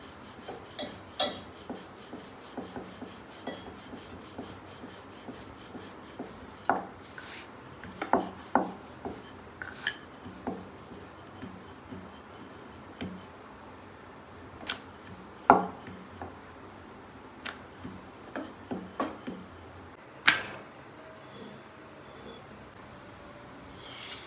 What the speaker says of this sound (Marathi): हा आता पिठावर लाटायचा.